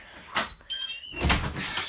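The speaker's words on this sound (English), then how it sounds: "Squeaky door." A squeaky door creaks open at night during an overnight stay on a backyard trampoline, two separate drawn-out creaking bursts with a rattle between them, fairly close and alone.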